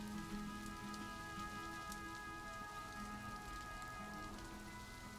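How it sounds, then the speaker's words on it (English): Steady rainfall in the Planet Zoo zoo-management game, an even, continuous hiss of drops on outdoor surfaces with faint tonal ambience underneath, holding level throughout with no voices. "We need umbrellas, friends. It is raining."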